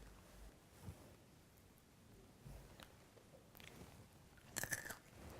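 Crunchy edible crickets bitten and chewed close up, with several crisp crunches spread through the clip and a louder burst of crunching near the end, no talking.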